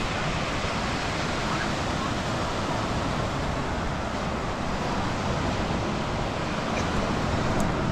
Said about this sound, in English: Waves are pretty small today, but it was really charging on Saturday, Sunday.